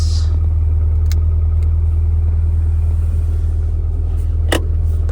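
A car from a Japanese auction idles on a cold day, its engine a loud, steady low rumble that holds unchanged throughout, with a couple of faint clicks.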